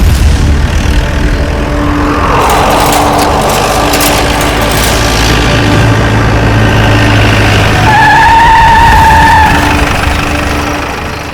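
A car in a police drama scene skids to a halt. Loud, close tire screech and engine noise build up, then a rising whine and squeal near the end as it stops, with no one speaking.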